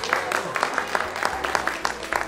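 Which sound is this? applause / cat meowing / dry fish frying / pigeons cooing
applause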